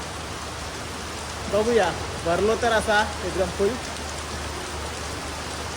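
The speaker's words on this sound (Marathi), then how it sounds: "पाऊस बघा केवढं मोठं येलो." Steady heavy rain hisses evenly throughout, with someone briefly speaking over it in the middle.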